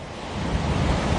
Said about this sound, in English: world of darkness, gale-force winds, and crashing waves